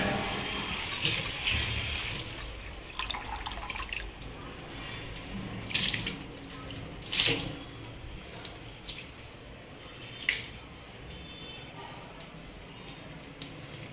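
Tap water runs steadily while something is washed by hand at a household sink, a soft continuous splash broken by several brief louder splashes and clinks, fairly quiet and close.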